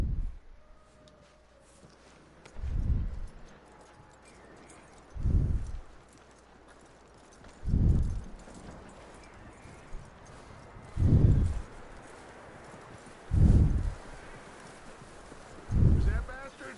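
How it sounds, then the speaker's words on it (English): Horse hooves clip-clop in the video game Red Dead Redemption 2, six isolated muffled thumps spaced a few seconds apart over a quiet ambient background. "That looks like a decent horse."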